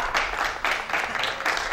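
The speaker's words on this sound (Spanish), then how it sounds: "El aplauso para el público" Audience at a televised music show applauds in steady broadband clapping that swells in several waves over a couple of seconds, filling the room at moderate loudness with no voices on top.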